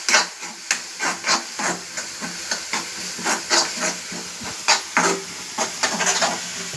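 Chilli, turmeric and coriander powder being stirred into a curry in a pan, a steady scraping stir with repeated spoon strokes over a soft sizzling hiss, close and alone.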